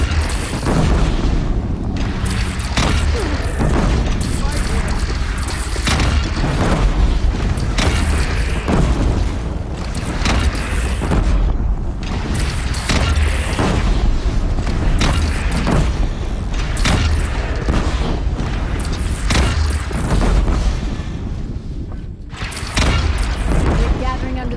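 Heavy cannon blasts and rumbling explosions from a bandit battle at a bridge in Horizon Zero Dawn, loud and continuous, with shouting voices mixed into the booming chaos.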